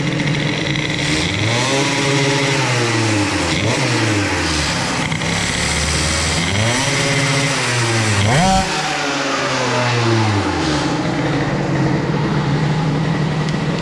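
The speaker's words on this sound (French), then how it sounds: "le tout petit filet de gaz que je mets, regardez comment le moteur réagit" A moped engine with an Airsal XT 77 kit and a Boost crankcase is revved on the throttle several times. Each loud, close blip swings sharply up and falls back over a steady idle.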